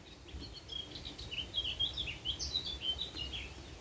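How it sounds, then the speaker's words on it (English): A bird tweets and whistles in short, high chirps repeated in quick bursts, faint against a soft outdoor background, with no voices. "And then there is a bird flying. Flying. Fluting. Tweeting."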